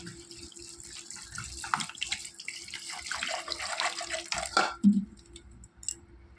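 Tap water pours into a pressure cooker holding soaked, washed kidney beans, a fluctuating splashing stream that swells near the end and then cuts off.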